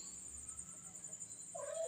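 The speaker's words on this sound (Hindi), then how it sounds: "तो आपको हम अपनी कैट के बच्चे दिखाते हैं।" Young kittens give a short, thin mew near the end of an otherwise quiet, faintly hissing stretch, with no speech.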